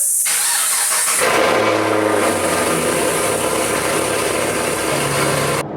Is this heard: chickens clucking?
no